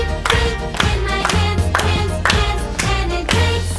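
Students in a music class clap their hands together in an even, unhurried rhythm, about seven or eight crisp claps spaced roughly half a second apart over a low musical drone.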